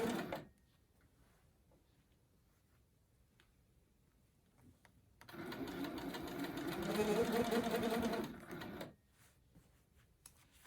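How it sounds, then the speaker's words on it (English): A sewing machine running free motion quilting stitches with a rapid mechanical chatter for a few seconds, its nearly empty bobbin adding a clacking rattle, preceded by quiet moments and a faint voice. "A lot of times the bobbin will clack around when the bobbin gets close to getting empty."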